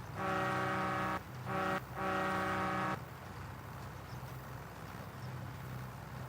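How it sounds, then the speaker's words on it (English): A train horn fitted on a farm tractor blares three times, a long blast, a short one and another long one, loud and close, before settling to a low engine rumble. "This tractor's got the train horn on it, Braden."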